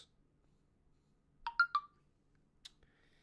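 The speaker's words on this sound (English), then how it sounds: "Left my phone on loud." A mobile phone on loud sounds a short notification: a quick burst of three bright tones close together, then a single faint chirp a second later, in an otherwise quiet room.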